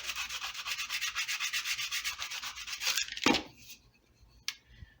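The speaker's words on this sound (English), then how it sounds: "then I'm going to kind of clean it up where I use the chisel on it" A chisel scrapes and pares along a wooden brace on an acoustic guitar top in steady, close rubbing strokes for about three seconds, then a single knock and a short faint scrape follow.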